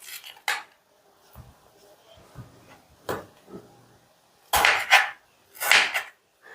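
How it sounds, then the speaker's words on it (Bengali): A knife cuts raw tomatoes into long strips, giving scattered, irregular thuds and knocks on a board with a few louder, broader scraping cuts toward the end, close and distinct against quiet. "এই কাঁচা টমেটো দুটোকেও আমি ঠিক এইরকম লম্বা লম্বা করে কেটে নেব।"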